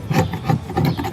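Short rhythmic scraping strokes removing old material from a boat's window frame, three close, distinct rasps in quick succession.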